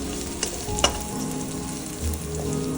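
Sugar sautéing in a pan, a continuous close sizzle of frying with a few sharp scrape and clink sounds from stirring; no talk.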